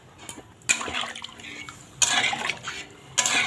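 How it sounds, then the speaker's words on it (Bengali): Water poured into a pot of simmering katla fish curry with potatoes, three separate splashing pours with rushing, bubbling bursts between quieter gaps, close by. "কিছুটা জল ঢেলে দিলাম।"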